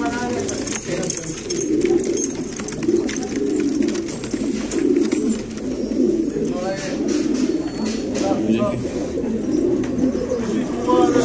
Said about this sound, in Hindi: ये कबूतर देखिए